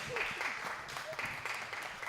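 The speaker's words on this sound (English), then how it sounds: "make sure she's got a huge round of applause to keep her coming back for more" An open mic night crowd at Great River Arts gives a performer a round of applause, a steady, fairly faint wash of clapping with a few brief background voices mixed in.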